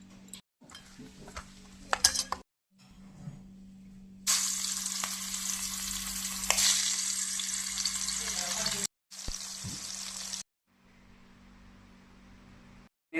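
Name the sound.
fish frying in mustard oil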